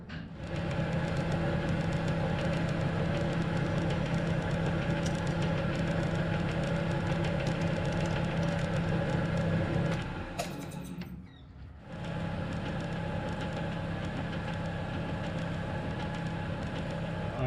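A lathe running at 170 RPM cuts a thread with a modified Hemingway kit die holder, giving a steady loud mechanical drone and hum that briefly dips and falters near the end before resuming, with no talk.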